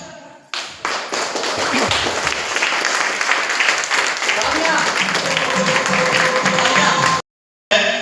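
Loud, sustained applause from a crowd at a company launch event in Nainital, India, dense clapping that fills several seconds before cutting off abruptly into a brief silence.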